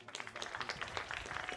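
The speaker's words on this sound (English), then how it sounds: "gets a good round of applause from the crowd" Crowd at a boys' high school soccer semifinal applauding as a player gets back up after an injury stoppage, a steady patter of claps throughout with no voices standing out.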